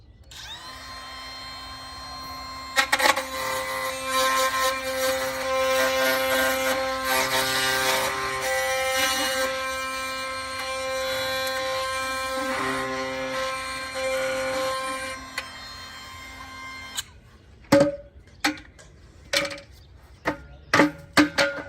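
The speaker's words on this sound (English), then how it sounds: "The goal is to drop this router bit inside that hole and then go clockwise." A router bit cutting a hole in an aluminum fence post through a hole template shrieks loudly and steadily with a few clanks, then stops and gives way to a series of sharp knocks and taps.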